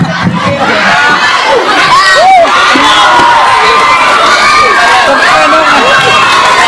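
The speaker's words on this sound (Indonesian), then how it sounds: "Tepuk tangan." A crowd at a humorous Islamic sermon erupts in loud, dense cheering and shouting, a lively roar of many voices that stays strong for several seconds.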